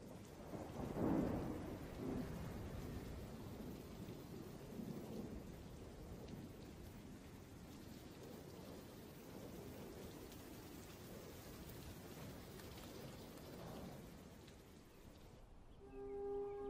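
A desert thunderstorm: a low rumble of thunder early on, then steady rain hissing across the whole stretch, fairly faint and distant, with no speech.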